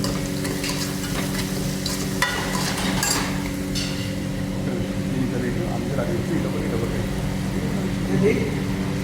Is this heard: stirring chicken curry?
yes